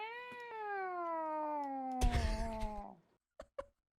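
A person imitates a cat, giving one long, drawn-out, slightly descending meow with a tonal, nasal quality, followed by a short noisy burst and a couple of faint clicks.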